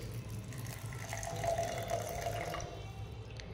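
Water poured into a blender jar holding chopped onion and fenugreek seeds, a steady, fairly quiet splashing trickle running continuously for several seconds with no talking.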